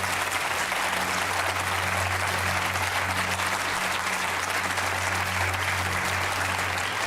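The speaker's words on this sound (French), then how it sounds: "je demande au public d'applaudir très fort Marie-Ange pour son courage." Sustained audience applause fills a French television studio, a dense, steady clatter of many hands clapping at even loudness throughout, with no voices standing out.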